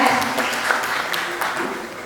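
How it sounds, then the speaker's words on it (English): An audience gives a dancer a round of applause, a dense wash of clapping that stays steady and then thins slightly toward the end, with a faint voice underneath. "Please give her big clap."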